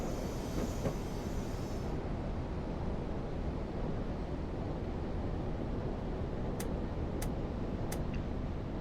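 Train running in the game Train Simulator, just after leaving a tunnel at a siding, giving a constant loud rolling rumble and rail noise throughout, with a few brief high squeal-like streaks near the end.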